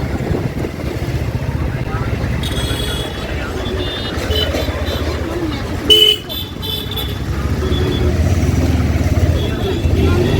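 Dense road traffic near a village fair: a constant rumble of engines with short car and motorbike horn toots, one louder honk in the middle, and voices mixed into the din.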